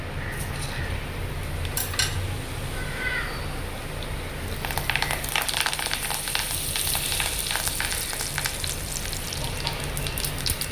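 Asafoetida, cumin, mustard seeds and curry leaves hit hot ghee and sizzle; a steady close frying hiss grows louder and crackly midway as the spices pop and splutter, with faint clinks of utensils and no talk.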